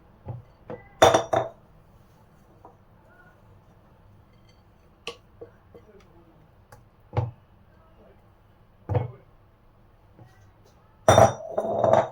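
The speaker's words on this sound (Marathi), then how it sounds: "माझं चॉकलेटचं जे बॅटर आहे, चॉकलेट आणि कोको बटरचं ते मी शुगर आणि कर्डमध्ये मिक्स करून घेते." Chocolate and cocoa butter batter is stirred into sugar and curd for a fudgy brownie, giving a few scattered clinks and taps of utensil against bowl, with quiet gaps between them.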